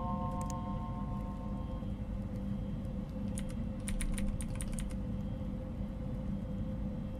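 Keyboard typing on a computer console inside the horror game Fears to Fathom, a quick burst of clicking keystrokes mid-clip over a steady low hum, fairly faint.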